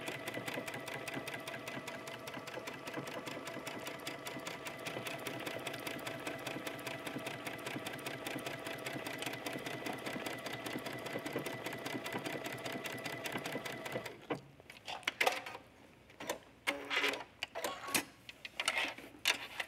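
A sewing machine stitches a buttonhole into fabric backed with fusible interfacing, making a steady, rapid mechanical whirr with ticking needle strokes for about fourteen seconds, then stopping and leaving scattered handling noises.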